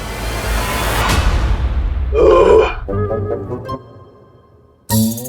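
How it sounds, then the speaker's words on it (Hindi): A deep, loud belch rumbles out once mid-scene, followed by fading tonal sound effects and a brief burst of music. "डकारी तो दी थी"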